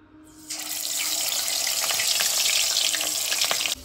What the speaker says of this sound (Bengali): এবার আমি মাছগুলো খুব ভালো করে ভেজে নেবো,